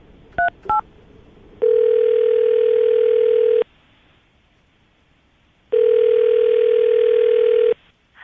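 A telephone call is placed to a radio show's second-date contact: two quick keypad beeps, then two long, loud, steady tones on the line, each about two seconds long, separated by silence.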